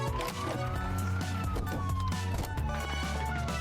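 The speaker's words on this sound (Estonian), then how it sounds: "Politseiautodel on vilkuvad tuled ja valjud sireenid" A police truck siren wails loud and continuous, its tone sweeping up and down over a steady engine rumble, close by and with no voices.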